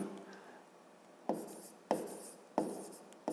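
Pen writing on paper during a fifth-grade maths exercise, heard as four quick, crisp scratching strokes spaced under a second apart, close and fairly quiet against a faint room background.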